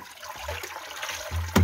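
Tap water runs steadily into a sink in a village home, a close, continuous splashing flow that swells louder near the end.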